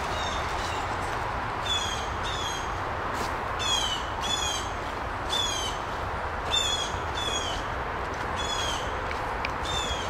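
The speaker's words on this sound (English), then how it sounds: "I'm gonna call that one the caw-caw." A crow caws repeatedly outdoors, harsh calls arriving in short bursts of two or three over a steady background hiss, moderately distant.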